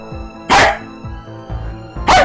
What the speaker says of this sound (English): Even barking back at him, which is rare.